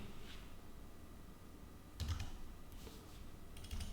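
A few scattered keystrokes tap on a computer keyboard, quiet and sparse, in small bursts over a low steady room hum.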